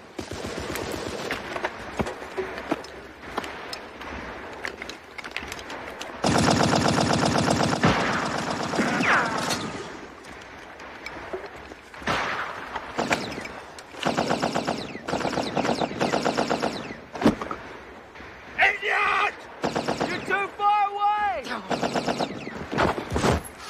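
Bursts of machine gun fire crackle across a battlefield scene, with a long sustained stretch of rapid shots and many shorter volleys, varying from near to distant, while voices are heard between them.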